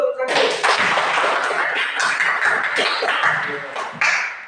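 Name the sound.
students clapping hands in class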